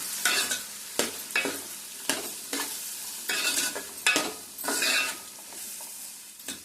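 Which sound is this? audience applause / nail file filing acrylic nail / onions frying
onions frying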